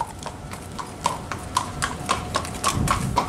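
Hooves of a black (moro) school horse of heavy build clop at a steady walk, each step sharp and close, as it is led indoors to be unsaddled at a stable in Lanús.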